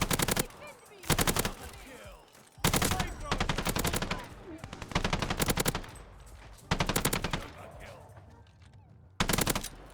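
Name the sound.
automatic weapon with 50-round drum firing in a video game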